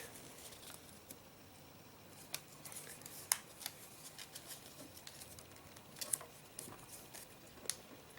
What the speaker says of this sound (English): I'm going to fold this edge on the crease we just made